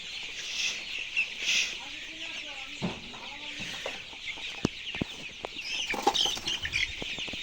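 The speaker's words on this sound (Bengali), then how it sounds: "দেখতে পারতেছেন, 3টা মুরগি আছে এখানে।" Twenty-one-day-old broiler chickens on a farm cluck and chirp close by, with scattered shrill calls and a few sharp knocks and flutters.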